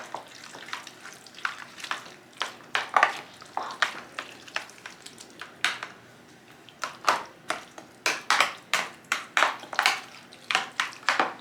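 Seasoning is stirred into crockpot meal ingredients, giving a series of close, wet scraping and squishing strokes in an uneven rhythm that grows steadier and more regular toward the end, with no voices.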